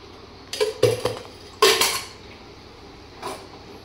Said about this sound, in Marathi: मी गॅसवरती आता कढई ठेवले, तेल घालून घेते.